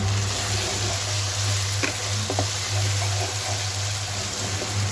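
Beef spleen frying in a pan with coriander powder, turmeric and salt, a steady close sizzle with a low hum underneath and a few faint scraping stir sounds scattered through.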